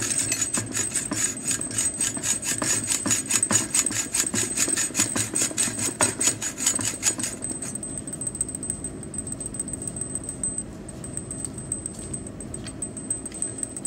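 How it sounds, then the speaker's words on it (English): A hacksaw cuts through metal in a fast, regular run of close, rasping back-and-forth strokes for about seven seconds, then the sawing stops and only a faint background hum remains. "you can try the sawing action."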